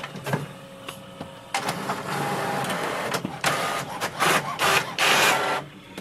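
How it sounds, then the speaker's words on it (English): An HP OfficeJet Pro 9010 inkjet printer making a copy: soft whirring and clicking at first, then repeated bursts of loud mechanical rolling and paper feeding, a steady machine hum between them, close by with no talking. "just click on the copy button and wait for the printer"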